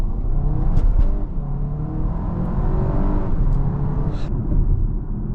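A 2026 Audi Q3 S-Line Quattro cruises along with a steady, close interior drone of engine, tyres and road noise, with faint clicks and no talking.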